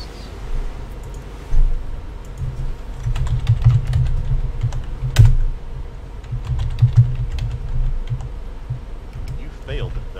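Fingers type in quick, uneven bursts of clicks on a computer keyboard during a tabletop wargame livestream. The tapping is close, with a voice talking faintly in the background.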